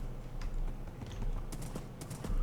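Horse hooves clip-clopping on ground in the Minecraft modpack Sevtech Ages, a steady run of soft, close thuds alongside sharp clicky transients.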